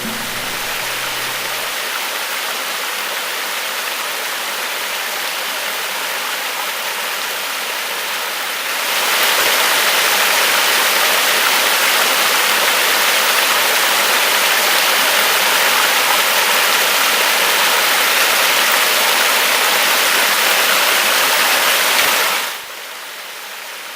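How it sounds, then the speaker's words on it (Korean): Byeongpung Falls on the Gangcheonsan trail in Sunchang, a 40 m waterfall, roars in a constant broadband rush of water, growing noticeably louder and fuller midway before easing back, close and with no voices. "시원한 물소리에 저절로 걸음을 멈추게 됩니다."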